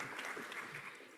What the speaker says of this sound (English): A little bit applause, please.